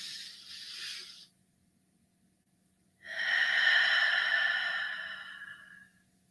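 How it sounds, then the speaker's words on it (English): Slow guided breaths during a meditation-style morning prayer: a soft airy exhale, a pause of silence, then a longer, fuller breath rising and fading, close and quiet with a faint low hum beneath. "So breathe with me now."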